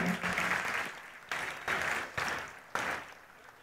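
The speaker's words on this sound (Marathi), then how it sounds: "आपण या सगळ्यांसाठी जोरदार टाळ्या वाजवूया" Audience applause at the closing ceremony of the 20th World Marathi Conference, a dense, steady roar of many hands clapping, swelling in repeated waves with sharp fresh surges, moderately distant.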